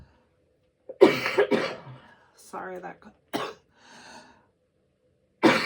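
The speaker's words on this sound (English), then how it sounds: "This cough is just..." A couple of harsh coughs and throat clearing break up nearby speech, with a final cough at the end.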